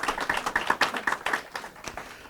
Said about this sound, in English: let's hear a round of applause for the great AM 560